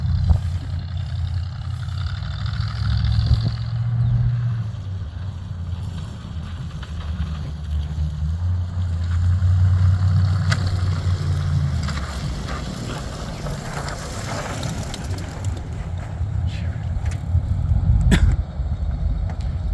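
A 1959 Bombardier narrow gauge machine powered by a 305 4-barrel engine drives past, a continuous low engine rumble swelling and fading with wind noise over the microphone, no talk.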